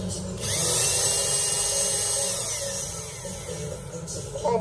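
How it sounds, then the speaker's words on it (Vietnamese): Bosch Japan 800 W reversible hammer drill drilling into concrete, a steady high whine with grinding that runs for several seconds, close and loud. "khoan bê tông,"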